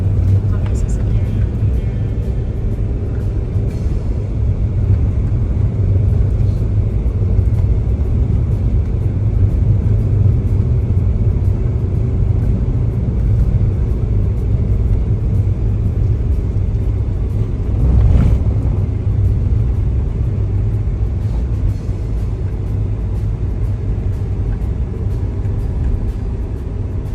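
Traffic rumbles steadily along a newly built road near the Sakamoto rice terraces in Miyazaki, Japan, a continuous low drone with one louder vehicle swelling past midway, no voices over it.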